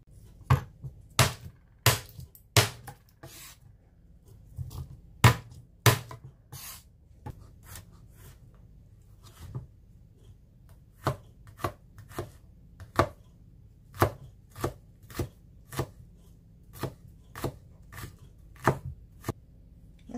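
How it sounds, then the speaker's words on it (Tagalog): A knife dices carrots, spring onion, onion and garlic on a cutting board for pork meatballs: sharp, close chops come in quick bursts and pauses, about thirty strikes in all, with no other sound. "idadice lang po natin ang carrots, spring onion, at saka yung ating sibuyas at bawang"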